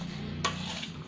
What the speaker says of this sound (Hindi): अब इन सबको अच्छी से मिक्स कर देंगे